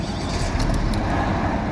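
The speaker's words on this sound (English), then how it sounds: "We'll start the car up and we'll see what happens." A Vauxhall Mokka 1.7 CDTi diesel engine turns over and runs, giving a close, steady, rough mechanical clatter and rumble with no talk.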